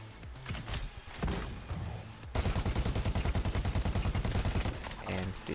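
A video game weapon fires explosive grenades with cryo damage, heavy rapid thumping bursts that run continuously for several seconds after a short pause, loud and close.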